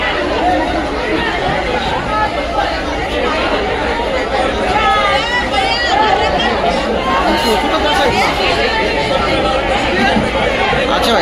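Loud crowd chatter fills the Uran Karanja wholesale fish market, a dense babble of many voices close by, with someone talking over the hubbub.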